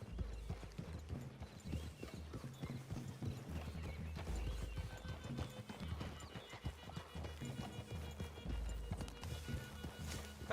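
Horses ridden through trees in Red Dead Redemption 2, with steady rhythmic hoof clip-clops and an occasional whinny, fairly quiet over a soft musical backdrop.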